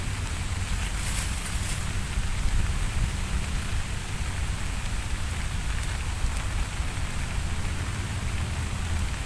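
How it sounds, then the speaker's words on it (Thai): Rain pours steadily at an outdoor fishing spot, an even, loud hiss of drops on surfaces that never lets up, with no voices over it. "ประมาณครึ่งชั่วโมงฝนมาครับฝนฝนมา ฝนมาปลาไม่กิน"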